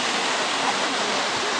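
Waterfall at En Gedi, a continuous dense roar of falling water, loud and unbroken throughout with no pauses.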